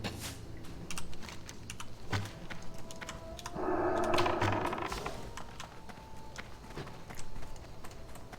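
Cherry MX Brown mechanical keyboard being typed on, with rapid irregular key clicks running throughout, close and steady, and a short burst of other game noise midway.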